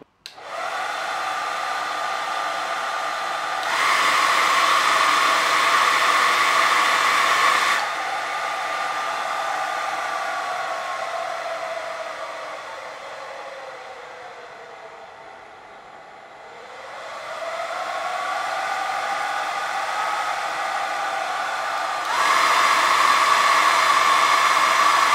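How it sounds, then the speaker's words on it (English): A hair dryer powered through a vintage General Radio variac runs steadily with a loud whooshing roar, its pitch and intensity shifting higher and lower as the speed changes, with no talking. "let me try a hairdryer"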